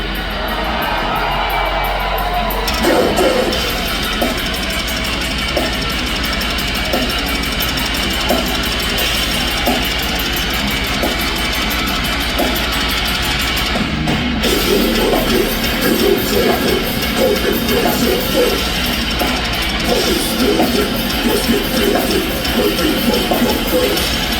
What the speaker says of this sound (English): Let me hear you fucking scream.